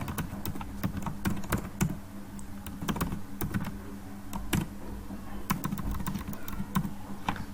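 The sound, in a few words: typing on a computer keyboard while writing HTML title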